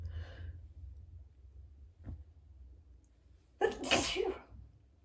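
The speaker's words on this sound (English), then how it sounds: "I have to sneeze." A single sharp sneeze bursts out near the end, loud and close, preceded by a faint breathy intake and quiet room noise.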